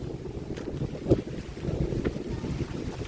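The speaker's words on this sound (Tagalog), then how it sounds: "Nami ay hangin kaayo" Strong wind roars steadily across the microphone during a rough boat ride to Onuk Island in Balabac, Philippines, with a low, continuous rumble and no talking.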